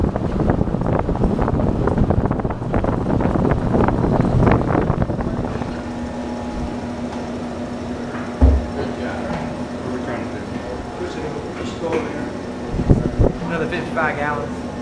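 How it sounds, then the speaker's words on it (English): Steady wind rushes and buffets the microphone throughout, loud at first with voices talking over it, then a lower continuous hum with a couple of thumps. "Windy."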